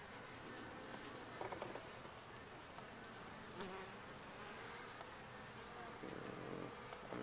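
Honey bees buzz around an opened hive during a January inspection, a faint, steady swarm drone with occasional close passes and light handling sounds.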